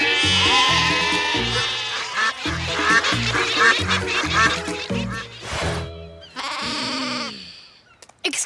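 A toy device in a sheep lure call mode gives a series of loud, close, bleating and quacking-like calls in repeated bursts with short gaps, ending in a longer wavering cry.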